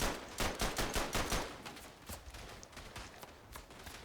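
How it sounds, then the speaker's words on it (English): Machine gun fire in the First World War shooter Verdun: rapid, rhythmic bursts of shots, loud and close at first, then thinning into scattered gunfire. "there's a fellow soldier with a machine gun"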